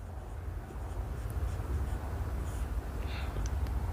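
Writing out numbers by hand for a maths exercise, a continuous soft scratching of pen or chalk over four seconds, close and fairly faint, with no talking.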